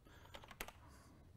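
Typing on a computer keyboard while coding Git workflow functions in Dyalog APL, a quick run of soft key clicks in irregular bursts, close and fairly quiet, no voices.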